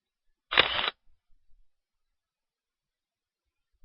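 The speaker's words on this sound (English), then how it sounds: "A lot of little clicks here." A quick burst of small computer mouse clicks while a price chart is captured on screen, one short cluster of rapid clicks followed by a few faint taps and then near silence.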